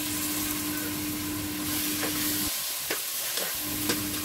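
Onion, chinigura rice and mung dal fry for khichuri with a steady sizzling hiss, broken by a few stirring scrapes near the end and no talking.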